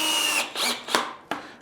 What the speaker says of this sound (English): It's much easier if you have a little cordless drill.